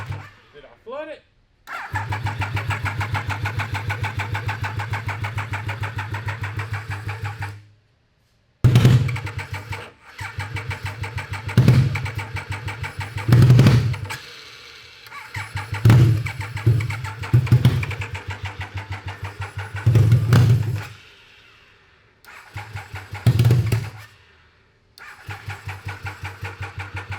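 A Triumph 955cc engine fitted in a go kart cranks repeatedly without firing, a loud whirring starter first in a long steady run and then in a series of short bursts separated by pauses, with a voice talking in between.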